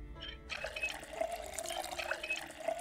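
In the Project Zomboid video game, water pours into a container with a soft, steady liquid rush and light splashes. It is fairly faint and plays alone without talk.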